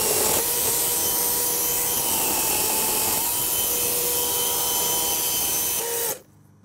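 A chainsaw cuts through wood with a loud, steady high-pitched whine held for about six seconds, then cuts off abruptly into near silence.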